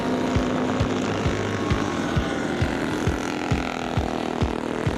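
Old 250cc Velocette racing motorcycles from the 1950s, built by local racers from standard road bikes, run at Zwartkops Raceway. A steady engine drone carries regular pulsing beats against a loud, broad background.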